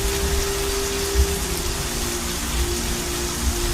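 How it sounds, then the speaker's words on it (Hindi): Steady rain hisses and patters across the whole stretch, a dense even wash with a low rumble beneath and a few slightly heavier drops, no voices present. "फिर अल्लाह बारिश भेजेगा"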